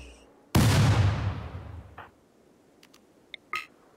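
Gunfire against a mech cluster in the video game RimWorld: one loud booming shot that decays slowly, followed by a few faint distant pops and a short sharper report.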